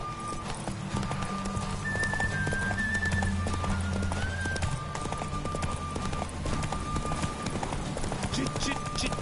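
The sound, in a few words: horse galloping in video game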